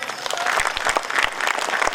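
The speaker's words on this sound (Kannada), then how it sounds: "ಒಮ್ಮೆಲ್ಲ ಕೈಗಳನ್ನು ಮೇಲೆ ಜೋರ ಚಪ್ಪಾಳೆ ತಟ್ರಿ" A seated audience at a devotional purana recital breaks into loud, dense applause, a steady wash of many hands clapping close and continuous with no talk over it.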